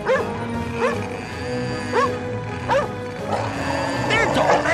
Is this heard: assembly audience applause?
no